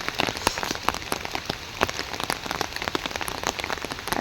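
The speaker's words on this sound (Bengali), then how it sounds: "তো বৃষ্টির দিন বৃষ্টি হবে" Steady rainfall patters on a hard surface nearby, a thick continuous wash of drops punctuated by sharper individual splats, heard alone without speech.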